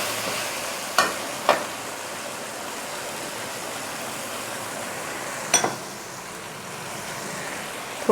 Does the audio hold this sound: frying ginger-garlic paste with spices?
yes